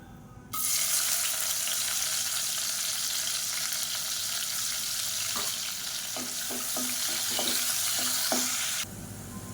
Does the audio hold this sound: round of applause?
no